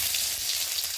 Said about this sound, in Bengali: গরম তেলে প্রথমে আলুগুলো দিয়ে দেওয়া হচ্ছে